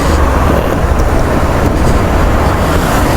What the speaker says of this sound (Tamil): இந்த டிராஃபிக் தாங்க ப்ராப்ளமே கோயம்புத்தூரில்.